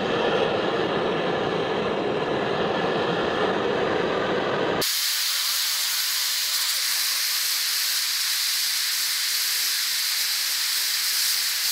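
A blowtorch roars with a steady hiss while heating a castle wrench for heat treatment, a broad continuous jet that jumps sharply louder and brighter partway through and then holds constant, close and with no talking.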